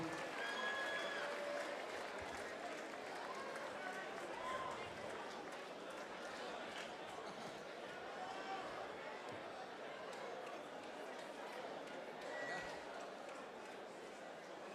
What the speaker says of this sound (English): A little bit of round of applause for his opponent, Josh Bennett.